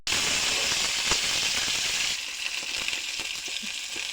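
Loud, steady sizzling of tempering spices frying in hot oil in a wok for dhokla, hissing strongly at first and then settling into a softer crackle with small pops.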